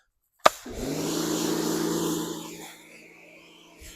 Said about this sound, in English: And I've got my handy power washer out here.